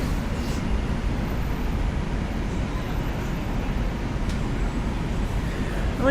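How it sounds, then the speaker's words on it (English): A Manhattan-bound 2 subway train on the elevated line rumbles steadily throughout, a continuous loud low roar of wheels and carriage noise with faint squeals, close and constant, with no talk. "This is a Manhattan-bound 2 train."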